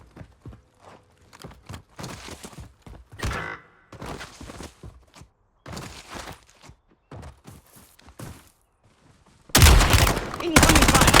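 Gunfire rings out in a Warzone battle royale match: scattered shots and short bursts mixed with footsteps and game radio chatter, then a loud, dense volley of automatic fire closing out the stretch.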